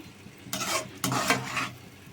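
Semolina (rava) roasting in a pan for kesari, stirred in two bursts of scraping, rustling strokes with a dull clatter from the pan, close and fairly loud, with no talking.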